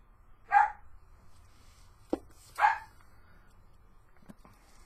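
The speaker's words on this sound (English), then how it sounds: "You hear one of our dogs barking." A household dog barks twice, a few seconds apart, clear and fairly close, with a faint knock between the barks and no talking.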